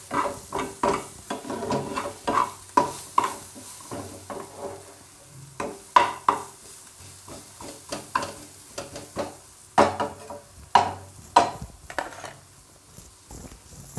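Cauliflower paratha filling being mixed in a pan, repeated close scraping and tapping strokes of a spoon against the pan in irregular bursts over a faint low sizzle, no voices.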